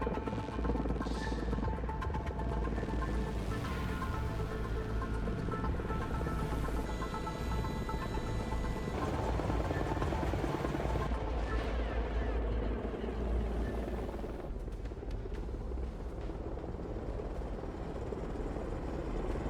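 Military helicopters in the Broken Arrow strategy game, a continuous thudding rotor drone with engine hum, mixed with occasional distant gunfire and other battle noise.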